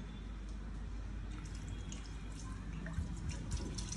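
Water poured into a pot of mutton head curry, a soft steady splashing fill with faint drips and small bursts near the end, quiet and close with no speech.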